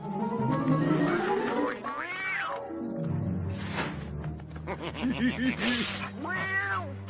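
Cartoon cats meow repeatedly in a burst of rising and falling, stretched cries, loud and close, with some yowling and an animated voice briefly speaking among them.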